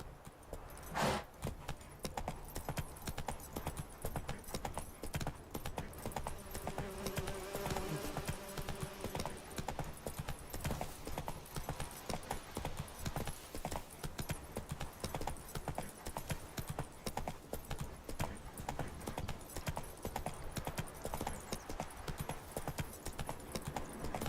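Horse hooves clip-clop steadily in The Witcher 3 game, a continuous walking rhythm over dense game ambience and music, with a brief whinny early on.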